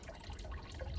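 Fresh water poured into an outdoor medaka fish tub, a brief close splashing gurgle of water hitting the water's surface.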